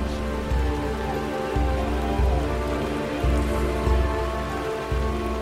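Steady rainfall patters densely on surfaces in a Costa Rican rainforest, a constant close wash of drops with low rumbling underneath and no voices.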